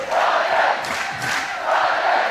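Basketball arena crowd at a British Basketball League championship game, applauding and cheering the winning home team, a loud, sustained roar of clapping and shouting that swells and dips across the whole stretch.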